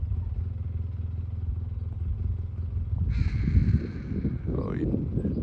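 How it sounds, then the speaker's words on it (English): A large hawk calling from near its nest in the Arizona desert, with a harsh screech from about three seconds in and a second, shorter cry near the end, over steady low wind or traffic rumble. "Oh, there he goes, a big old hawk."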